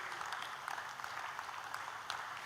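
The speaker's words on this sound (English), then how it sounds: "Let us all give a big round of applause to them." Audience applause greeting musicians as they take the stage at a music and meditation wellness event, a steady dense wash of many hands clapping at moderate distance, continuous throughout.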